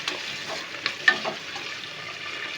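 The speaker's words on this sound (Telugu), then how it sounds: "ఆయిల్ వేడైంది కదా, ఈ ఉల్లిగడ్డని ఫ్రైడ్ ఆనియన్ చేసుకోవాలి" Sliced onions sizzle in hot oil for a mutton curry: a steady, close frying hiss with a few brief louder crackles and spatters, no voices.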